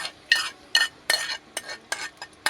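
A spoon stirs and mixes rice pilaf with ghee-fried cashews and raisins in a pot, making about seven close, rhythmic scraping strokes with no talking.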